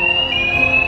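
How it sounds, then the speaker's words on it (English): A fire alarm shrieking at a gaming festival in Ireland, one loud steady high-pitched electronic tone held without a break, close and alone. "You set off the fire alarm, right?"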